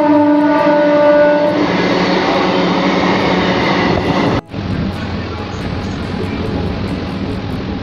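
A Sealdah-bound local train rumbles loudly past a station near Majerhat, a continuous heavy roar with a strong hum early on, a brief dip midway, then steady wheel-and-carriage noise.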